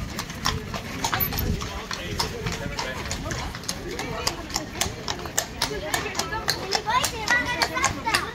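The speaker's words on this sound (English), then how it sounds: "We have two horses pulling a carriage." Hooves clip-clop in a brisk, uneven rhythm as two horses pull a carriage nearby in a Belgian city, with people talking and children's voices in the background.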